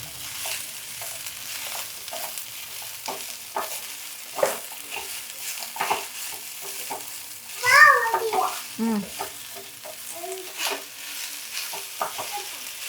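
Ring worm plant leaves fry on low flame for chutney, giving a steady soft sizzle with stirring scrapes throughout. A brief voice cuts in midway.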